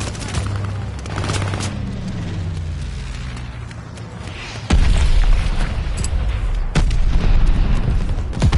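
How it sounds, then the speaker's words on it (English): Mortar barrage in a video game: a run of deep, heavy booms and blasts, the first rumbling low and sustained, then a louder cluster of sharp nearby explosions with crackling impacts, no talking. "Allies calling a mortar barrage."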